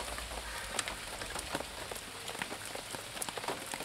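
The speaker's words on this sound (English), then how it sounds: "The heavy rain set in." Heavy rain drumming on a fishing brolly beside a carp lake, a steady close patter with occasional louder drops, no voices.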